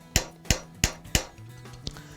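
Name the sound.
hammering a metal bracelet on a stake, rotating the piece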